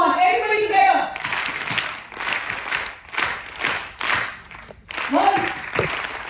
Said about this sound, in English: we do 3 claps. Okay, first 3, second 3, and then 3 slow claps.